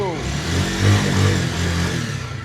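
A second-hand Bajaj Pulsar RTR motorcycle is started with the self-start, its engine catching and running at a mid-pitched idle with a slight rev, close by while people talk.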